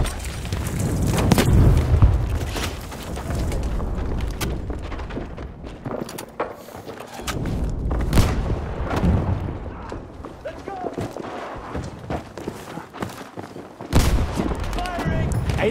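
Battlefield V combat: rapid gunshots and heavy booming explosions crash repeatedly, loud and close, with bursts of fire between deeper thuds and a voice speaking over the battle.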